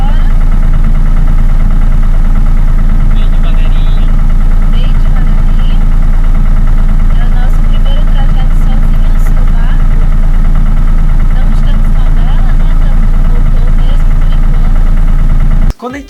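Sailboat inboard engine idling while moored, a loud, steady low rumble with constant vibration that runs unbroken until it cuts off abruptly at the very end.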